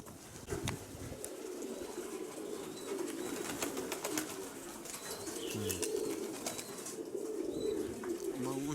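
Pigeons in Mykolaiv coo and murmur steadily, with occasional wing flaps and faint chirps over a constant outdoor hum. Brief low sounds that could be a voice come now and then.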